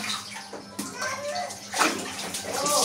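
A child lies and splashes in a small home-made pool of water, with sloshing and splatters close by under steady water noise, while adults talk over it.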